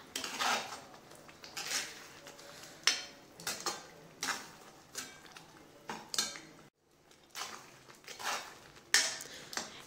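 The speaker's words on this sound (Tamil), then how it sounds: "நல்லா அடியோடு கலரி விடுங்க." A spoon scrapes and clinks against a pan as mint leaves are stirred and sautéed over low heat for a mint pickle, in steady repeated strokes, close and moderately quiet, with a brief pause partway through.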